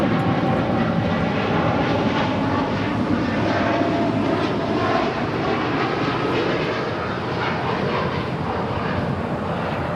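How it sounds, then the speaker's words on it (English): A Boeing 787-8 Dreamliner departs LAX with a loud, steady jet-engine roar that stays strong and fairly even throughout, with no talking. "That was American Flight 27 departing to Tokyo Haneda on a 787-8 Dreamliner."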